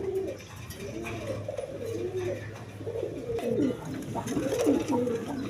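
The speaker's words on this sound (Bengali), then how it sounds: "দর্শকবৃন্দ এখানে আরেক পেয়ার কবুতর আছে দেখেন" Pakistani teddy pigeons coo in a low, throaty, repeated rhythm, several birds calling close by with overlapping murmurs and no talk over them.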